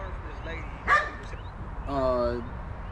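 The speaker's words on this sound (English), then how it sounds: "That's Pete the dog over there making a new friend" A dog in an outdoor garden gives a sharp yip, then a longer whining bark-like call a second later, heard at a moderate distance over low background noise.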